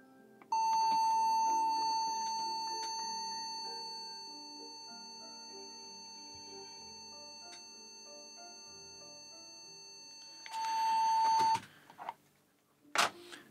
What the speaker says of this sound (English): we'll pump in a continuous tone